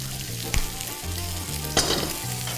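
Cold rice and prawns frying in a hot pan with a savory mix, a loud continuous sizzle broken by two sharp scraping tosses, no voices.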